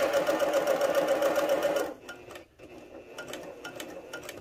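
A Janome HD9 sewing machine set to a 3-stitch length runs at a fast, steady clatter for about two seconds, then stops. Light ticks and clicks follow in the quiet.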